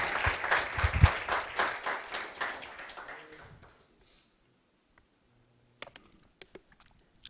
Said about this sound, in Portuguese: Aplauda o Senhor, que Ele merece.